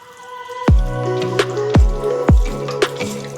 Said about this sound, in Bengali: দু চামচের মতন টক দই আর পরিমাণ মতন সর্ষের তেল দিয়ে দিচ্ছি আমি ভালো করে মাখিয়ে নেব